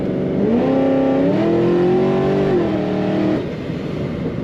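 A 2011 Chevrolet Camaro Z-TA with a shaker hood accelerates hard on a road, engine note rising through a gear, then climbing again, loud and close, with steady road and wind noise throughout.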